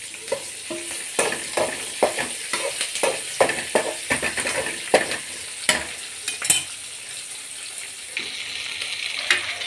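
Green chillies and onions fry in hot oil for a rice upma, giving a steady close sizzle. A spatula knocks and scrapes the pan in an uneven rhythm, with no talk.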